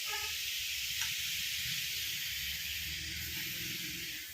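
A puttu steamer cooking banana puttu gives off a steady, continuous hiss of steam that stays even and moderately loud, with a faint low rumble underneath and no voices.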